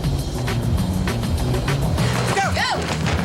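A car engine hums and rumbles steadily at close range, with faint chirping squeals near the end.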